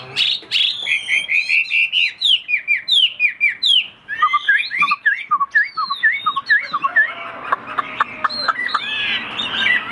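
Pet birds offered for sale, a large-bodied tame bird, call with bright chirps, whistles and trilling phrases in quick succession, close and loud throughout without any talking.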